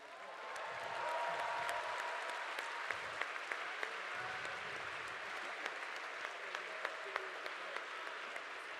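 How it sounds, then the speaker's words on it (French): A large audience at a grande école commencement ceremony stands and applauds the honour procession, sustained distant clapping filling the hall at a fairly soft level, with a few sharper claps nearby. "Veuillez vous lever, rester levés et applaudir une dernière fois notre cortège d'honneur."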